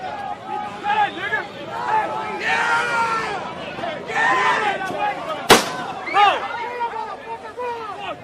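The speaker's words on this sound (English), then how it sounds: "That was a gunshot." A single sharp gunshot cracks out in a recorded news clip, one loud sudden report cutting through a busy crowd murmur and overlapping voices that continue around it.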